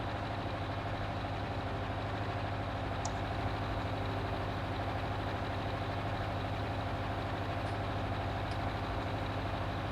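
Tractor engine idling in Farming Simulator 19, a constant low mechanical hum with a steady throb and faint whine, unchanging and alone for the whole stretch with no talk.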